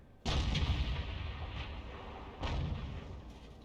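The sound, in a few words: tank cannon firing in video game World of Tanks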